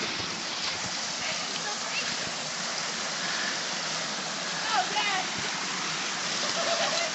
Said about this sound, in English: waterfall number 11.